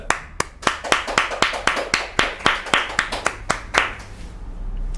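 Rhythmic unison clapping as a champion is welcomed onto the stage, about fifteen sharp claps in a steady beat, close and distinct, stopping abruptly just before the end.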